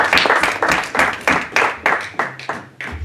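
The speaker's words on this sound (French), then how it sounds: "Give a hand of applause." Scattered applause from a church congregation, a run of distinct sharp claps with steady rhythm, moderately near, with no talk over it.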